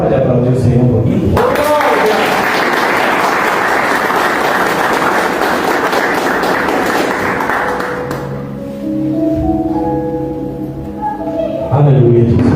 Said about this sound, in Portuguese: Você pode aplaudir o Senhor um pouquinho?